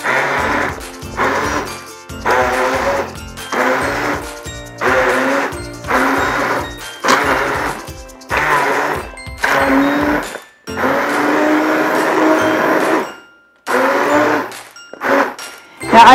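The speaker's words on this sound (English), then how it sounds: "The next step is to use our immersion blender. We're gonna go ahead in and blend everything up." An immersion blender churns broccoli cheddar soup in a stainless steel pot. It runs in short loud bursts broken by pauses, then in a couple of longer sustained stretches, close and forceful.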